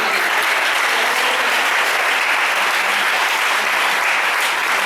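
A church congregation at a Palm Sunday service claps hands together in a dense, steady round of applause, loud and even throughout, with no talking over it.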